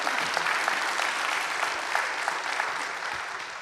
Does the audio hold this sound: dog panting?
no